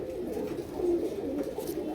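Soft, low cooing comes from a KTM Teddy female pigeon at a pigeon seller's, a faint continuous murmur with one slightly stronger swell near the middle.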